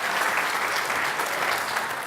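Crowd at an event hall gives a warm, continuous round of applause, many hands clapping in a thick, even wash that holds steady throughout without speech over it.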